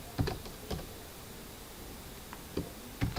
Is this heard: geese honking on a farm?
no